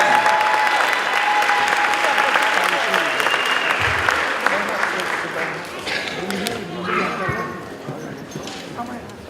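A graduation audience at an 8th grade ceremony applauds steadily for about nine seconds, a dense wash of clapping with crowd murmur and a few voices mixed in, tapering slightly toward the end.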